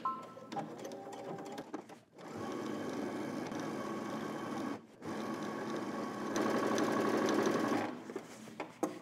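A sewing machine runs steadily while stitching a side seam of a men's pattern garment, with a brief pause and restarts, a loud close mechanical whir that speeds up near the end, with no voices.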